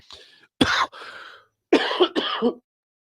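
A few sharp throat-clearing coughs in two bursts, close and fairly loud, with brief silence between them.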